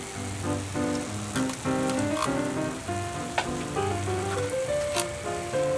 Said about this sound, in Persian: رب اول جدا سرخ میکنیم تا قشنگ رنگش در بیاد